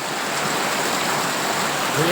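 Rainwater running across the ground during heavy monsoon rain, a steady, loud broadband rushing like a stream that holds even throughout and swells slightly at the end.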